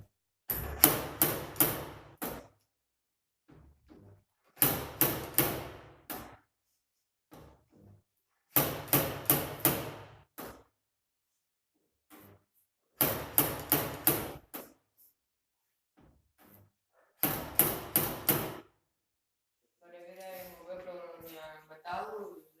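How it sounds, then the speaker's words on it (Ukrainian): A slide hammer pulls a dent from a car door panel during car body repair, giving bursts of sharp rhythmic metallic knocks in several groups separated by pauses, close and loud. "Плавними ударами зворотнього молотка витягуємо вм'ятину."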